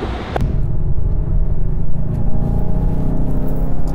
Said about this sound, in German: Jetzt fährt der Fatti hier mal das Auto